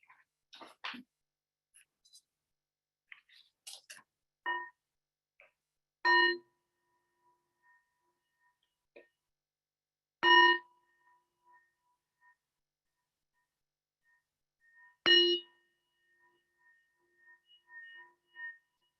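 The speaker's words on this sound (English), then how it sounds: "So we'll begin with 3 deep sounds of the bell and then Joanna's voice." Three deep meditation bell strikes ring out at even intervals of about four to five seconds, each clear and sustained with a long shimmering decay, in an otherwise quiet room with a few soft rustles.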